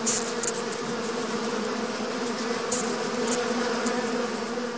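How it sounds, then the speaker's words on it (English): A dense swarm of bees buzzes steadily and loudly, mobbing a death's head moth to sting it; the droning hum is continuous and close, with faint scattered clicks above it. "The bees swarm to the spot to attack the robber with their stings."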